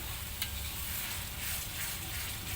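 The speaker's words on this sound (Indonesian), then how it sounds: "Nah, ini kita aduk-aduk rata kembali." Seasoning sauce thinned with a little water sizzles steadily in a frying pan while being stirred, a close, continuous hiss with faint scraping and no voices.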